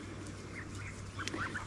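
Young geese, grown goslings in a garden pen, give a few soft honking calls toward the end over steady low background hum, fairly faint and close.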